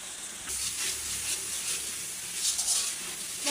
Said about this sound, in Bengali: মশলাগুলো একটু কষিয়ে নিচ্ছি তারপর গুঁড়িগুলো দিয়ে দেবো